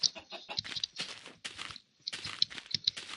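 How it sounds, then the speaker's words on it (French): Chickens in the video game Minecraft clucking in short, repeated bursts, fairly close and clear, with brief pauses between calls and game footstep sounds around them. "on va tuer quelques poulets, parce que là, il va falloir bouffer"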